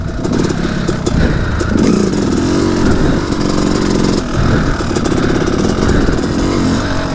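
A motorcycle engine runs on a woods trail, a loud continuous drone that rises and falls with revving throughout, close by with a light clatter underneath.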